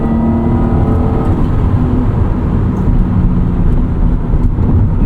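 A 1996 Acura NSX-T with a 5-speed manual transmission being driven, heard from inside as a steady, loud engine hum and road drone with a smooth whirring tone that holds evenly throughout, no talking.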